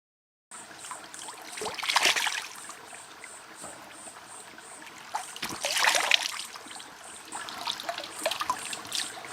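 Stream water trickling in a mountain forest where jaguars drink, a steady close babble with two swelling bursts of splashing, under a constant high insect or bird drone.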